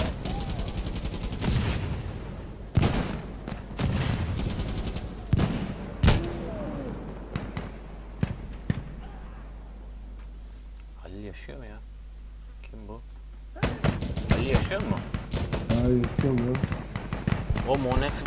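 Heavy machine gun fire in the tactical shooter game Insurgency: Sandstorm, rapid loud bursts of shots in clusters near the start and again at the end, with players talking excitedly over the gunfire.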